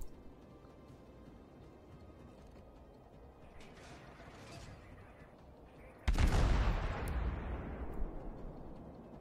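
Torpedo strikes land on a warship in World of Warships: a sudden loud, booming impact bursts in after a stretch of rumbling engine and sea ambience, then rolls off in a long, fading roar.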